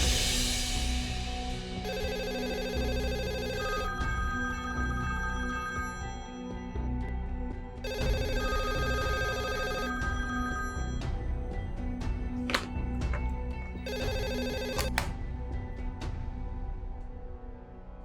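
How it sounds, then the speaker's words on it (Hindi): A telephone rings in a television drama scene, with three evenly spaced bursts of bright electronic trilling over a steady background, each burst lasting about two seconds and separated by pauses. "अभी फोन आएगा"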